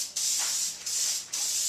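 An aerosol spray can hisses in three short bursts separated by brief pauses, close and steady, used on headlights before painting.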